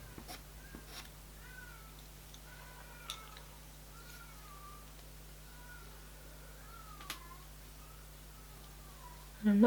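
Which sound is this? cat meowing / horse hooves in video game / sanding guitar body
cat meowing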